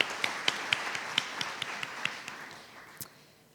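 A small audience claps lightly and unevenly at a juror's introduction during a mock tribunal event, about a dozen crisp separate claps that thin out and fade over a few seconds.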